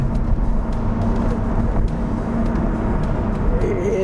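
A 2002 Corvette Z06 V8 idles steadily nearby, a low, even engine rumble holding constant throughout with faint occasional clicks on top.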